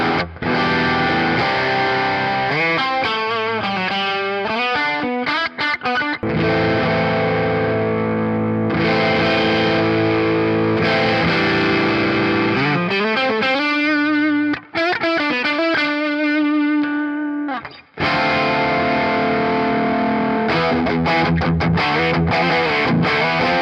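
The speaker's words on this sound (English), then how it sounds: "we'll see what the pedal sounds like when it's not boosting the amp as much" Electric guitar through a Joyo Baatsin overdrive pedal in its Timmy-style mode, set to boost the amp less, playing chords and riffs with a warm, crunchy distortion, loud and continuous with a few brief pauses.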